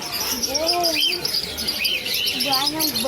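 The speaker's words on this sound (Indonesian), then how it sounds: "Burung banyak. Burungnya banyak." Many caged birds at the Pramuka bird market in Jakarta chirp and tweet in scattered bursts over a busy, noisy market background, with people talking nearby.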